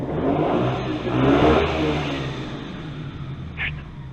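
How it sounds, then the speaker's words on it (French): A loud, raw motorcycle engine with its exhaust baffle removed roars steadily, swelling in a rev near the middle and then settling into a rough, rumbling drone. "Je vous laisse apprécier le doux bruit de cette bécane."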